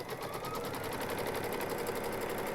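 A Baby Lock embroidery machine runs a straight stitch on fabric over mesh stabilizer, a fast, steady mechanical whir and rapid needle chatter at moderate level, with no talking.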